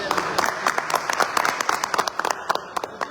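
Audience clapping at a Gazipur gathering celebrating an AWPL member's car achievement, a short burst of loud, uneven claps with scattered sharper hand strikes, mixed with some voices.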